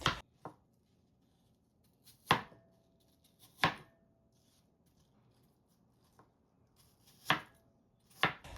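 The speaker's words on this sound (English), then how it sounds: "Okay, I'm done cutting the apples." A knife cuts through apples on a cutting board in a home kitchen, making a few sharp, crisp chops at irregular intervals with near silence between them.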